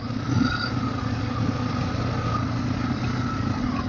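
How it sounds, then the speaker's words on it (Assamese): Bajaj Pulsar N250 motorcycle engine rumbling steadily while riding off-road on a rough, unpaved dirt road, a continuous mid-loud drone with no talk. "তো এতিয়া বাইকখন অফ ৰোডিং কৰি চাওঁ কেনেকুৱা লাগে।"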